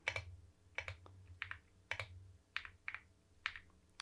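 A computer keyboard's space bar pressed repeatedly in a game development setup: about eight sharp clicks at uneven intervals, close and fairly quiet, with no talking.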